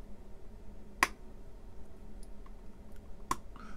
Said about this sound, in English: That click is that screw falling down into the original threads that were cut.